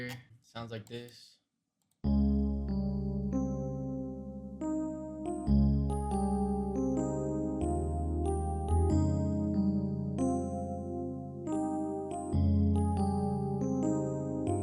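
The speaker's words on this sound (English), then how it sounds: "I started with this piano here." A piano melody for an Asian rock beat plays clearly after a brief burst of clicking, with sustained chords and bright repeated high notes in a steady, looping pattern.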